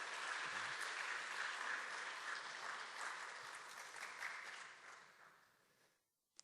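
A congregation at a Sunday worship service on a school campus applauds its choir in a full, even wash of clapping that holds steady, then tapers off and dies out near the end.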